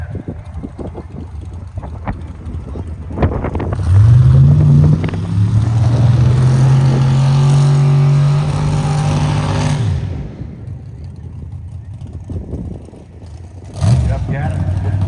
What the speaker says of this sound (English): Taking on Jeff Gaddis, Camaro in the final. Here's your buy run at 3